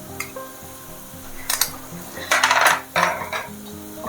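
Onions with ginger-garlic paste sizzle in a pan for a green chicken dish, with metal spoon scrapes and clinks against the pan and louder bursts of frying partway through, close and without talk.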